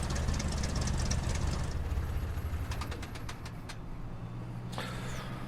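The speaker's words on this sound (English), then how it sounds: "we'll just watch the engine and the propeller come to a stop" In Microsoft Flight Simulator 2020, an aircraft engine and propeller wind down after the mixture is pulled to idle cut-off. A loud low rumble fades with rhythmic chugging, then a quieter hum with a few clicks.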